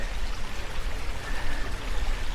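Creek water rushes and burbles steadily over rocks outdoors along a shortcut trail, a continuous close wash of flowing stream with no voices.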